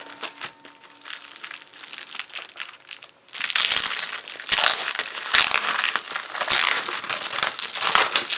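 Sheets of Stamperia Classic Christmas scrapbooking paper handled up close, loud continuous crinkling and rustling with a sharp burst of louder crumpling partway through.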